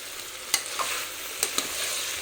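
Brinjal and potato pieces are stirred in a pan for an aloo-vankaya tomato curry, giving a few brief scraping strokes of the spoon over a soft sizzle, close by and with no one talking.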